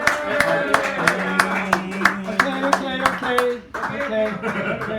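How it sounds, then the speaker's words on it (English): Audience applause at a cafe poetry reading in San Francisco: steady clapping from a small crowd, with voices and cheers mixed in, fading briefly before picking up again. "Give Tommy a round of applause."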